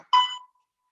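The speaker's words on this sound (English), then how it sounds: "So every beep is just 30 seconds." An exercise interval timer in an aerobic step class gives a single short electronic beep, clean and isolated, marking a 30-second interval.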